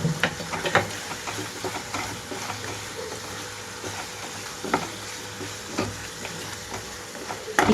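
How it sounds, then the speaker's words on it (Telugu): Chicken frying on a low flame with garlic, green chillies and coriander, a constant sizzle broken by several loud stirring scrapes and clanks of a spoon against the pan. "ఇక్కడ లో ఫ్లేమ్లో ఉంచి కరెక్ట్గా 7 నుంచి 10 నిమిషాల పాటు అయితే వేయించుకుంటున్నాను"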